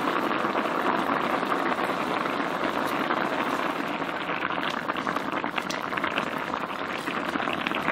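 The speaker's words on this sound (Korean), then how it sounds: "이제 이렇게 보글보글 끓고 있을 때 간을 한번 보세요." Pork and tofu jjageuli stew boiling in a pot, a steady dense bubbling and popping held close and continuous throughout, with no voices.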